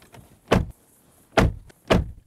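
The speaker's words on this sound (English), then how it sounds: "Door test." A 2023 Porsche Cayenne door shut three times in quick succession, each a solid, deep, close thunk with a short decay, and no talk over it.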